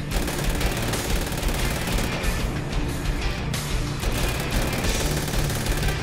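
Dense, continuous automatic gunfire in GTA 5 while shooting back at police, loud rapid bursts overlapping with crashes and impacts throughout, no talk.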